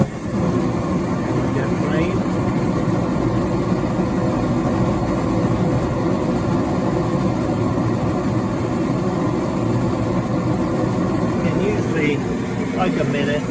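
A Goodman 40,000 BTU gas furnace runs with its blower motor on, making a steady, loud, low mechanical hum and airflow rush throughout, with a voice talking over it.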